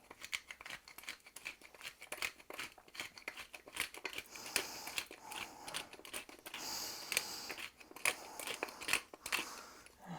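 Fresh black pepper is ground by hand over a kitchen pan, giving a rapid run of dry, crunchy clicks and scrapes. The sound is close and fairly quiet, with uneven bursts for about ten seconds and no talk.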